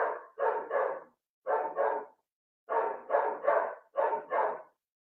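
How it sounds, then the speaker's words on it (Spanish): A dog barks in short paired bursts, close and fairly loud, in four clusters separated by brief silences, heard alone without any talk. "perdonen a mi perro"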